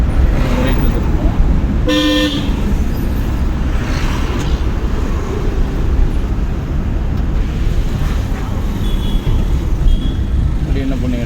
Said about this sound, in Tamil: ஹாரன் அடிச்சு